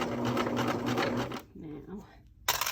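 A sewing machine stitching a fabric bowl cozy, its steady fast needle hum running for over a second, then stopping while a voice speaks, with a brief burst of stitching returning at the end.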